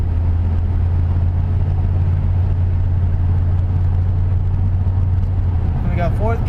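A Chevrolet Silverado pickup drives after a transmission flush, its engine and cabin rumble steady and loud throughout as it runs up through the gears, with a brief shift in tone near the end.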